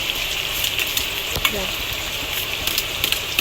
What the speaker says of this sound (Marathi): कढईमध्ये तेल तापून घेतलेले आहे त्याच्यानंतर सर्वात प्रथम आपण कांदा टाकायचा कांदा चांगला फ्राय करून घ्यायचा आहे